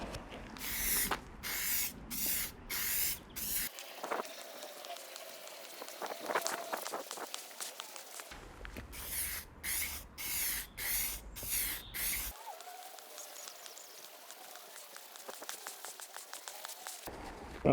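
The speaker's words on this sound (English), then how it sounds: "Right, so I'm coming in with the clear coat, the lacquer." A spray gun lays clear coat lacquer onto an MG TF front wing in two runs of short, even hissing bursts, each run separated by a quieter stretch, close and fairly loud.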